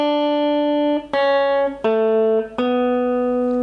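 Four sustained guitar notes are plucked one after another from part of a song, each ringing out clearly before the next, with no voice over them.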